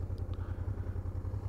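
A Honda TransALP motorcycle idles on a slope with a steady, low, throbbing engine rumble at close range. A faint brief clatter sounds near the start.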